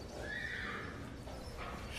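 A cartoon competition horse whinnies in a drawn-out neigh, with faint hoof clip-clop and a soft background underneath.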